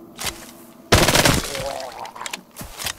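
Gunfire in the VR zombie game Arizona Sunshine: a few scattered shots, then a loud, rapid burst of fire with rattling echoes, followed by more sporadic shots, close and punchy.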